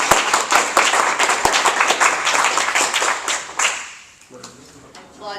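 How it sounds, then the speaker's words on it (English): Audience applause for Margaret Ajemian Ahnert in a university classroom: dense, steady clapping from a group that fades out near the end, followed by a brief tonal sound. "I just want to give Margaret a round of applause."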